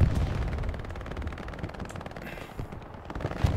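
Machine gun fire in Hell Let Loose, a World War II shooter: dense, steady rattling bursts with thuds of distant gunfire mixed into a busy, noisy battlefield backdrop.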